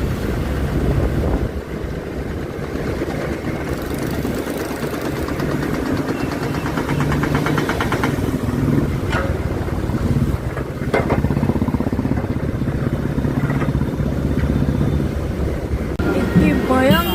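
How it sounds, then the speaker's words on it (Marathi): Heavy road traffic comes through as a continuous low engine rumble and idling drone, with wind buffeting the microphone throughout. "इतकी भयंकर ट्रॅफिक आहे"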